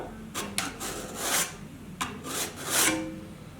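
A steel cabinet scraper is drawn across a sharpening surface in a wood shop, giving several distinct rasping strokes of rough, scraping friction in two close groups, with no talk.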